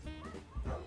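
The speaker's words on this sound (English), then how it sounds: "you hear the doggies in the background barking" Small dogs behind a glass screen door on a cold day give short yips and whimpering barks, a few quick bursts at moderate distance.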